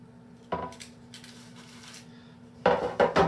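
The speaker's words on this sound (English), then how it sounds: "I'm just going to drop this down in there using the baking sheet. It's going to plop right in there." A sourdough loaf drops off a baking sheet into a Dutch oven with a soft thump, followed by light metallic scrapes and then a cluster of louder clanks of metal on cast iron near the end, with no talking.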